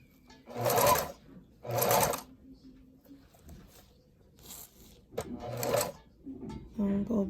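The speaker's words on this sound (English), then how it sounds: "I'm gonna go back stitch. And go forward again." Sewing machine stitching a two-color ribbon tutu, running in short loud bursts of rapid whirring as it goes forward and back stitches, with pauses between runs and a person talking quietly in the gaps.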